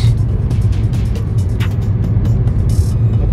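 Car rolling over newly laid asphalt, a loud, steady road and tyre roar close inside the cabin, with small clicks and rattles on top.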